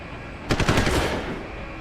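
Gunfire rings out in Deus Ex: Human Revolution Director's Cut, a sharp loud burst of rapid automatic shots lasting about half a second, then fading into a lingering echoing tail.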